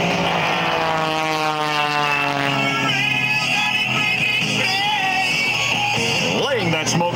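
Jim LeRoy's Bulldog aerobatic biplane makes a loud, continuous propeller and engine roar, its pitch sliding up and down as it sweeps low over the ground at the 2006 Quad City Airshow, with a faint crowd noise underneath.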